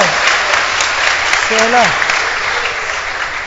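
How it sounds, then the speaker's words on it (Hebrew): An audience at a rabbi's talk in Kiryat Motzkin breaks into steady, dense clapping that holds at an even level, while a voice briefly speaks over it. "ואני מציע שכולם ימחאו כפיים עכשיו לטובת הרב הזה."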